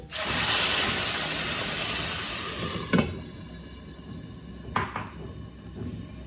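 Tomato chutney sizzles loudly in a pan, then a lid is set on it with a couple of sharp metallic clanks, after which the frying noise carries on more muffled underneath.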